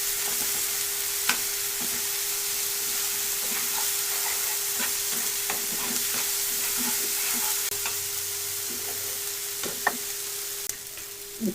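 Spinach with shrimp sizzles steadily in a pan while a spoon stirs it, giving intermittent scraping clicks over a constant frying hiss and a faint steady hum.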